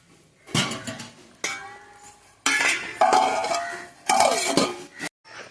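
A metal lid is set onto a pot of fish curry in a kitchen, with several sharp clanks and clinks of metal cookware in bursts separated by short pauses, close and fairly loud.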